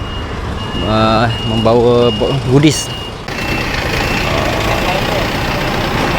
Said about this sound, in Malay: Okay, ni lori kita